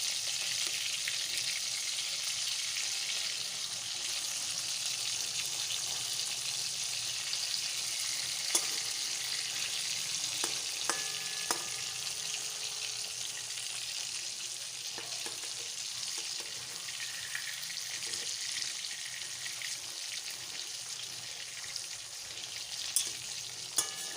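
Continuous crackling sizzle of katla fish frying in hot oil, steady and close, with occasional small pops and clinks throughout.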